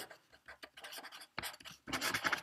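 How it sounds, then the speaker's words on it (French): Pen strokes on paper come in short, close, faint scratching bursts as someone writes by hand, with a busier scribbling run at the end. "Donc j'écris"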